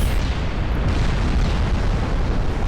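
Heavy, sustained explosion rumble as a battleship's B turret is destroyed in a naval combat video game, a dense low boom rolling on without a break at high volume.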